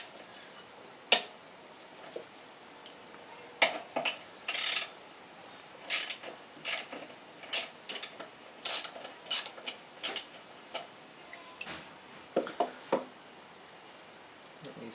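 Bowl nut being loosened from the carburetor of a Briggs and Stratton small engine, heard as a series of sharp metallic clicks and ratcheting ticks, close and fairly loud, spread irregularly across the clip with no talking.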